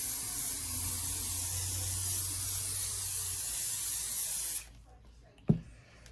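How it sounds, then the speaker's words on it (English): Spray can of adhesive hissing steadily for about four and a half seconds during a Kydex press build, then cutting off abruptly, followed by a single sharp knock in near silence. "I'm going to spray the adhesive on it."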